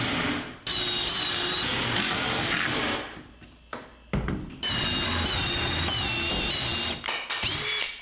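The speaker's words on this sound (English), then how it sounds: "we lined up the back and then put a whole bunch of screws in it" A power drill drives screws into a cabinet back, in several close, loud whirring bursts separated by short pauses, some ending with the motor winding down and a clatter of handling.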